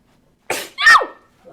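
A single sharp human sneeze rings out close and loud against silence: a short intake burst followed by the explosive main blast, then quiet.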